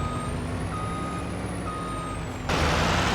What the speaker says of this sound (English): Headlights pierce the dusk as trucks roll out, leaving the ravine in shadow.